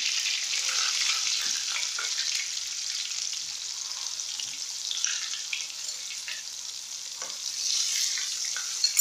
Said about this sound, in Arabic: ننزل بالسمك بسم الله